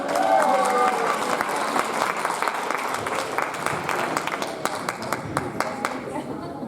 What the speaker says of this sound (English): Let's give a round of applause for Amber.